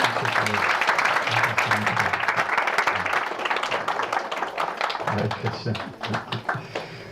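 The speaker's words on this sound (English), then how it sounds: "Let's give a round of applause for this." Temple congregation at an ISKCON Gaura Purnima class in Ottawa breaking into a round of applause, dense continuous clapping with a low hum and voices murmuring underneath, thinning a little near the end.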